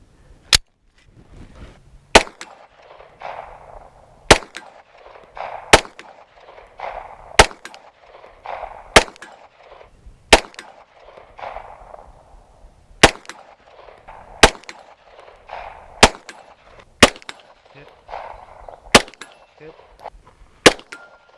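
Pistol shots fired one at a time at an outdoor range while zeroing a red dot sight, about fourteen sharp loud cracks spaced roughly a second or two apart, with ringing and shuffling noise between shots.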